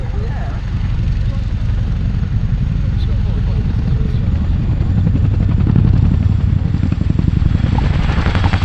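A Chinook twin-rotor helicopter at an air display, loud and close, with a steady heavy rotor thump and engine roar throughout, swelling slightly toward the end, with a commentator's voice over the noise.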